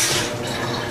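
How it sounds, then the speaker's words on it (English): A tap runs steadily into a sink as hands are washed in a kitchen, a close, continuous splashing hiss with no talk. "let me go wash my hands real quick"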